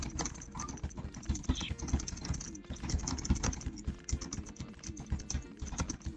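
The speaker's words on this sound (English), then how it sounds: "Just jam the space bar." Keys clatter fast and continuously as a keyboard space bar and other keys are hammered during a computer game, giving close, rapid, uneven clicks.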